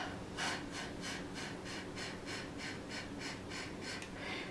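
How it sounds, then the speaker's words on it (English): Breath blown steadily onto the palm of a hand, a close, airy hiss pulsing in about a dozen even puffs in quick rhythm over a constant soft room hum. "blowing on the palm of your hand"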